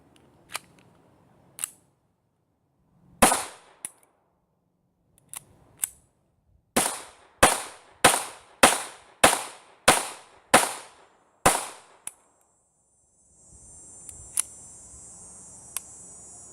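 A Walther P22 pistol fires at a shooting range: scattered single cracks at first, then a quick string of about eight evenly spaced sharp shots, each with a short decaying tail, followed by a few more isolated reports amid faint background noise.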